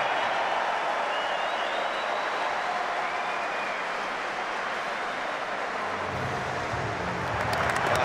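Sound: rugby crowd giving Rory Best a standing ovation

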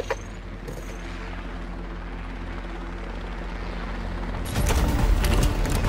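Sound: helicopter approaching in a video game

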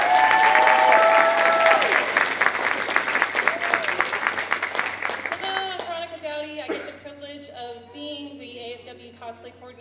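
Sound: audience round of applause

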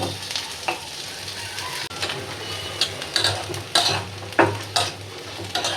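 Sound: garlic frying in mustard oil

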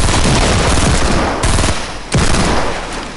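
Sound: gunshots in the video game Fortnite

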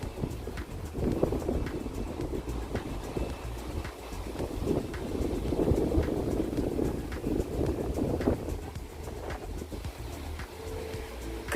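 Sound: wind blowing in gusts

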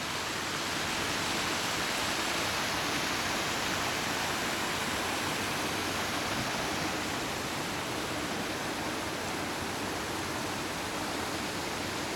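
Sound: resort garden waterfalls

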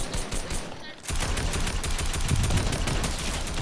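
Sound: gunfire in Fortnite Battle Royale, a video game

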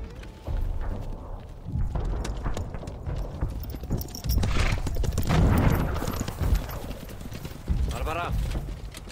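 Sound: horse hooves clip-clopping

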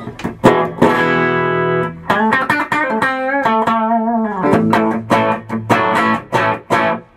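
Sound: electric guitar through tube amp, clean channel

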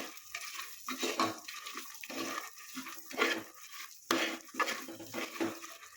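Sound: stirring toor dal into tempering in a pan

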